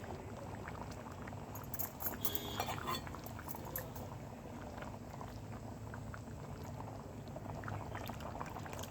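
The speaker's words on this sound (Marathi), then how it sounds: "आता चिंच गूळ टाकत आहे" Konkani bitter val bean curry simmers in a pot as tamarind pulp and jaggery go in, giving a steady, close bubbling and gurgling that runs unbroken throughout, with a faint clink or two of utensils.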